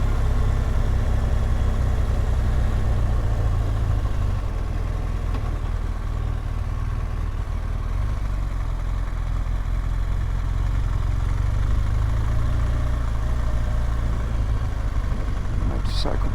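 A motorcycle engine idling in town parking in Ullapool during a Scottish NC500 tour, a steady low throbbing rumble held close and constant throughout, with a short sharp noise at the very end.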